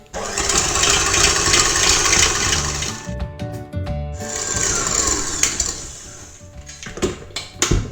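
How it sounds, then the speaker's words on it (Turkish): An electric mixer whirs loudly as it whips milk cream in a bowl, running steadily for about three seconds, pausing briefly, then running again before stopping with a few clunks. "Şimdi süt kremamızı güzelce çırpacağız."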